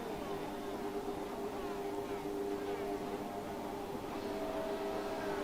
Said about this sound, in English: And the revs start to build up